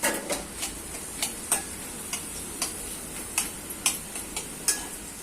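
Finely chopped onion frying in a generous amount of oil, heard as a soft steady sizzle with irregular crisp ticks and pops, faint and alone.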